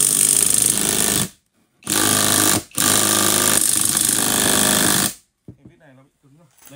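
A Japanese impact driver hammers a long 12 cm screw in three loud, rapid, rattling bursts with brief gaps between them. A voice speaks faintly after the tool stops.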